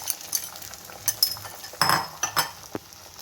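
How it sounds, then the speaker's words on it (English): Egg mixture being stirred into frying masala for Indian-style egg bhurji, heard as intermittent scraping and clinking of a utensil in a pan over soft background sizzle, close and fairly quiet. "And now we'll put this egg mixture into a masala."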